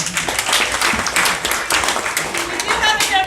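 Listeners at a wildlife talk by a nonprofit give the presenters another round of applause, a loud, close burst of many clapping hands lasting a few seconds, with voices mixed in.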